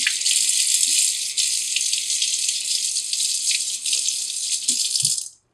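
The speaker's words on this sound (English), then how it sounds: "Then I'm going to rinse my hand, obviously." Water gushes from a sink tap as soap and red paint are rinsed off a hand, a loud steady hiss with small splashes that stops abruptly at the end.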